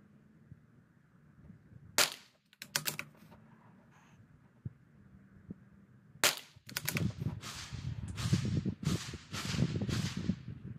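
A CZ 457 rifle fires CCI Standard Velocity rounds at a range: a series of sharp, short cracks, a few isolated and then a quicker cluster, set against quiet background with no talking.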